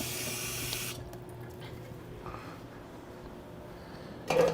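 Running tap water splashes steadily into a sink while beef cheeks are rinsed, a close continuous wash that drops off after the first second, then surges again at the end.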